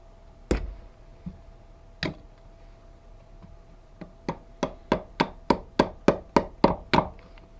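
A hammer taps metal, tapping out a stuck, corroded pin on a Craftsman tiller: a few scattered strikes at first, then a fast steady run of sharp, ringing blows, close and loud.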